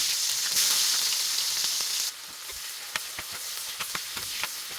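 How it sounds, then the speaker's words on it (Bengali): Chopped onions hit hot oil with a loud, bright sizzle for a couple of seconds, then settle into a steady frying crackle with scattered pops and a few utensil clicks. "এবার এই তেলের মধ্যে দিয়ে দেবো পেঁয়াজ কুচি"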